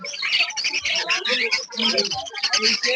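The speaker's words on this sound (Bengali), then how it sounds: "এখানে ব্ল্যাক ককাটেল আছে" Black cockatiels at a bird market in Uluberia keep up a dense, loud, continuous chatter of chirps and calls close by.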